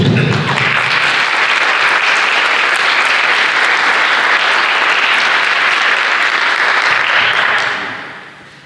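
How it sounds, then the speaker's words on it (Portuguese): A church congregation bursts into loud, sustained applause filling the room for several seconds, then tapering off near the end. "vamos aplaudir a palavra de Deus"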